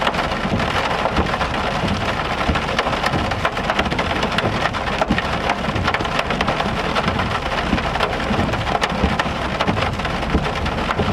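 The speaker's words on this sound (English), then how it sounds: "we've seen big raindrops." Heavy rain pours steadily during a severe storm in northern Oklahoma, big raindrops drumming on surfaces in a dense, continuous hiss that stays loud and unbroken throughout.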